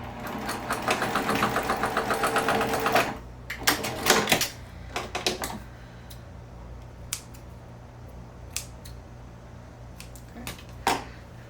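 Sewing machine stitching a D-ring tab closed on a sling bag, a rapid rhythmic needle clatter for about three seconds, then stopping, followed by scattered clicks and handling sounds.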